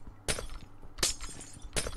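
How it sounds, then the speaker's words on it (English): Three sharp glass-block breaks in Minecraft, spaced evenly about every three-quarters of a second, each a crisp bright shatter with a short tinkling tail, close and clear with no talk. "I need to get rid of this section of glass."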